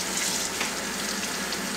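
Hot water runs steadily from a tap into a sink during dishwashing, a continuous close rushing splash with no talk.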